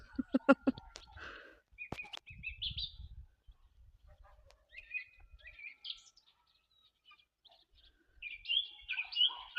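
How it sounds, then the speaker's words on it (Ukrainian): Guinea fowl clamor in loud, harsh, repeated calls near acacia trees on a farmyard, mixed with sharper chirps and tweets from other birds, with gaps of quiet between bursts. "цесарки лемент щинять, порозлякують усіх пташок"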